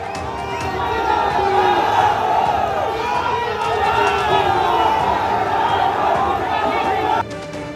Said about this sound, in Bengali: একে অপরের বিরুদ্ধে স্লোগান তুললেন তৃণমূল ও বিজেপির কর্মী সমর্থকরা